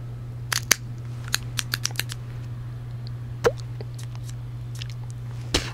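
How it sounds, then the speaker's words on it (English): An Alec Bradley Crescendo cigar has its cap snipped, giving a few crisp, close cutter clicks and snips spread across several seconds, with short sharp snaps standing out against a low steady background hum. "Go ahead and cut the cap here."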